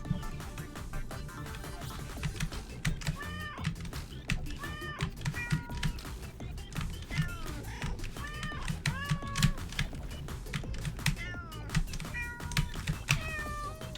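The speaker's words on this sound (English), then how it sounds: "FCS with cat bumper sounds." Cartoonish cat meows used as pinball bumper sounds in the game Strawberry Jam, repeating rapidly over a busy game soundtrack with clicky hits.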